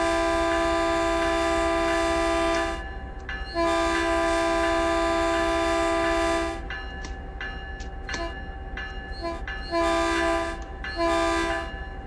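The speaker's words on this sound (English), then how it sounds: "And now let's try the horn" Locomotive horn of an MP36PH diesel in Train Sim World 5, sounding loud, close and alone in three long chord blasts, the first about three seconds, followed by a few shorter, choppier toots near the end.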